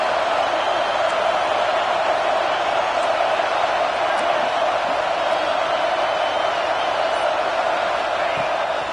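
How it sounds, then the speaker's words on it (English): A huge stadium crowd at a Crimson Tide football game roars continuously on third down, a dense sustained wall of noise with no pauses, loud and enveloping. "The Tide crowd rolling noise down onto Saban Field on 3rd down"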